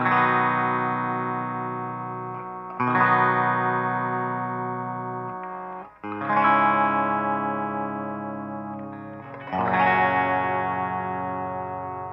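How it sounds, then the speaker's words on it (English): Distorted electric guitar chords ring out, struck four times and left to sustain and fade between strikes, loud and close with no voices. "And then the distortion comes back in again."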